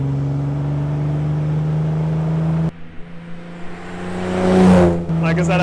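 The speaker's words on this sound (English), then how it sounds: "You can just hear the exhaust burbling down in that corner." Restored 1960s Austin Healey 3000 MK3 BJ8 burbling through its exhaust while driving, a steady low engine drone that rises into a louder rev, heard from inside the open car.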